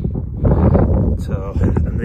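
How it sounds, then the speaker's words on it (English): Wind buffets a microphone outdoors in a garden, a rough rumbling gust over about two seconds while a voice speaks. "if you pardon the wind"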